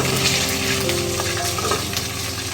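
Halved small onions tumble into a hot frying pan for a Kerala-style beef roast, setting off a loud, steady sizzle with faint stirring scrapes throughout.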